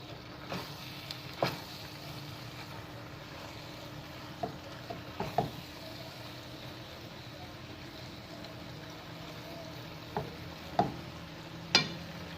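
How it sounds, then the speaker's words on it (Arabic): A utensil stirs and mixes white pasta sauce in a pan with a soft, steady scraping and gentle sizzle, broken by occasional sharper clinks against the pan, quiet and close. "وهنا يا البنات راح نخلطها بهذه الطريقه، راح ندمجها كامل"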